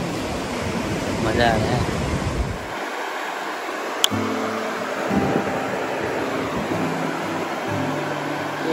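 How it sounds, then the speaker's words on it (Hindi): Wind and surf on a beach at Manguf, Kuwait, at sunset: steady broadband rushing noise of breeze and waves, with someone speaking briefly over it and a short click partway through. "इधर सनसेट हो रहा है, इधर पानी हवा चल रहा है, ठंडी ठंडी हवा आ रहा है"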